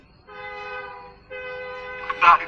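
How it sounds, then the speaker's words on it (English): At a train station, a train horn sounds two sustained, steady blasts separated by a short gap, with a brief burst of other noise right at the end. "Is it some train station?"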